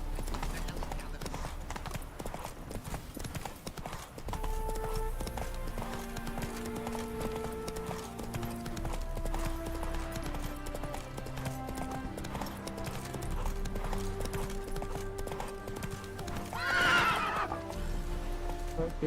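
Roach the horse from The Witcher 3 clip-clops at a steady gallop under a game music score, with a loud close whinny near the end; someone talks over the hoofbeats.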